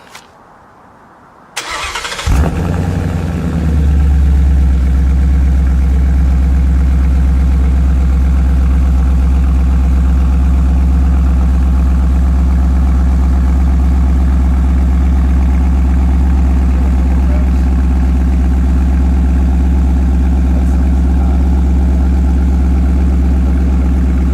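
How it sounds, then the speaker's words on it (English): After a quiet moment, a 2017 Ford Mustang GT with a Roush axle-back exhaust cranks and fires, flaring briefly before settling into a deep, steady idle with a throaty low rumble. "So this is the first start up on this new Roush axle back."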